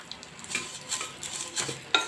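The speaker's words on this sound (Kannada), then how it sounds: "ಈಗ ಇದಕ್ಕೇ ಶಾವಿಗೆ ಹಾಕ್ತಿದ್ದೀನಿ. ಶಾವಿಗೆ ಸ್ವಲ್ಪ ಬಿಸಿ ಆದ ತಕ್ಷಣ ಹಾಗೆ ಹಾಲು ಹಾಕೊಂಡ್ಬಿಡೋಣ." Roasted vermicelli heated in a pan for payasam, with soft scraping stirs and a light sizzle in a few short bursts, close and quiet.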